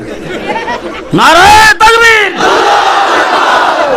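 A crowd at a Bengali Islamic religious gathering answers a preacher's call with a loud collective chant, rising sharply for about a second, briefly pausing, then carrying on as a sustained roar of many voices.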